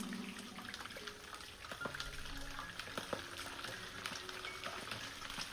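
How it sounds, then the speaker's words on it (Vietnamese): White pomfret fish sizzles and crackles steadily in a hot pan, with scattered pops and clinks of a utensil; no talking. "Giờ mình sẽ đi chiên cá này."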